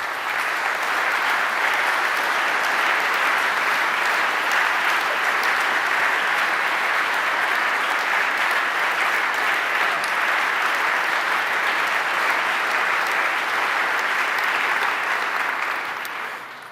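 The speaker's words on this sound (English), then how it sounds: "this is your applause" A conference audience in Kyiv, at a Ukraine reconstruction conference, applauds in a long, steady, evenly loud wash of clapping that holds for about sixteen seconds before tapering off at the end.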